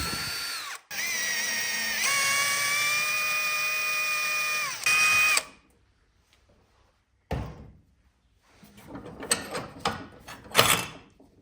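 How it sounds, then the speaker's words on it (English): A power drill whines at steady speed, boring a hole in metal for a size 8 threaded bolt, slowing and stopping after a few seconds, followed by quiet and then scattered clanks and handling noises. "We'll mark another hole, which we'll drill and thread to a size 8 thread."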